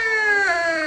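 Cat meow sound effect triggered from a button in a homemade sound-box phone app, a single drawn-out tonal wail lasting about a second, loud and close with no speech.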